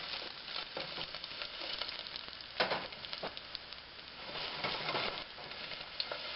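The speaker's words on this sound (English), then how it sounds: "We'll let those cook until they're limp" Diced onion fries in a few tablespoons of hot oil in a pan, a steady crackling sizzle with occasional louder pops and stirring bursts. No one speaks over it.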